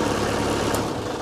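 A 2011 Kubota B3200HSD compact tractor's 4-cylinder, 32-horsepower V1505 diesel idles close by, a steady, even rumble with no voices over it.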